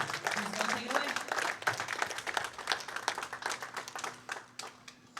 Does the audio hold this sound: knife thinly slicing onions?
no